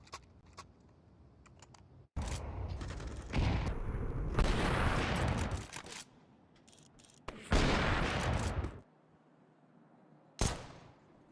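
P250 pistol shots in the CS:GO video game during a professional esports match, heard as several loud, sharp bursts separated by quieter gaps, mixed with in-game sounds and echoes.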